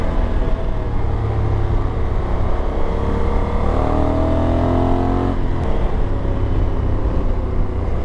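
Honda Africa Twin 1100 adventure motorcycle riding along a road, a steady close engine drone and wind rumble throughout, with a brief rising rev in the middle.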